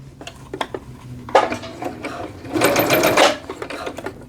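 A sewing machine stitches a seam on Vogue joggers, running in quick bursts with a longer loud run near the end, close by, with light handling clicks between.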